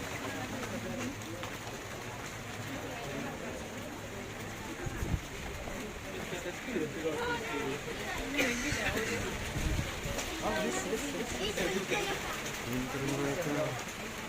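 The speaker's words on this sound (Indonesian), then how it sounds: "Hujan." Rain falls on a street in Egypt as a steady, broadband hiss lasting the whole stretch, with people talking over it nearby.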